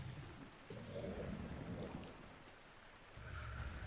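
Rain and distant thunder in the video game Zelda: Breath of the Wild, a soft steady downpour with low rumbling swells, faint and without talk.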